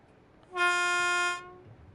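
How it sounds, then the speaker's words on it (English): A single sustained train horn from the Train Sim World 3 video game, a bright chord-like blast holding steady for just under a second before cutting off, loud and close over faint background ambience. "There's your horn"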